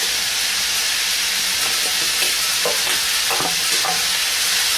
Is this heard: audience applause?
no